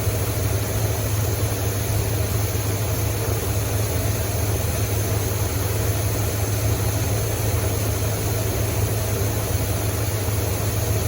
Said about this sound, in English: Now you can hear the motor start to get a little bit rougher.